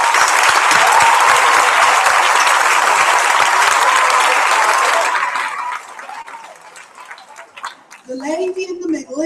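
Audience applause at a primary school prizegiving, loud and sustained clapping from a hall full of people for about five seconds, then fading out as a voice begins speaking.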